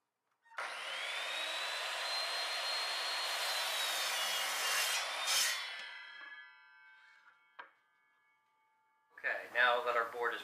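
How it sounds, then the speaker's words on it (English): A wooden board is sawn to length with a power saw in a woodworking shop, a loud continuous whine for about five seconds that then winds down, followed by a short bump and a brief burst of voice at the end. "now that our board has been cut to length"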